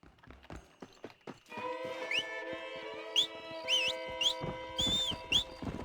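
A horse in the Western video game Red Dead Redemption clip-clops along steadily while whistling rising tones sound over the hooves, with a bright whinny-like call near the end.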